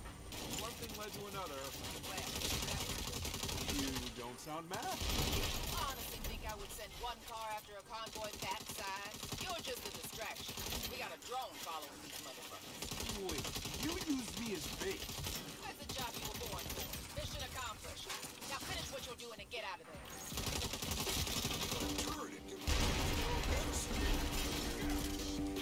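Gunfire in the Saints Row video game, scattered bursts of shots in an action scene with someone talking over the top throughout.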